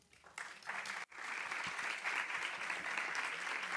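An audience at a social housing conference in Seville breaks into applause, a dense burst of clapping that builds quickly and holds steady for several seconds.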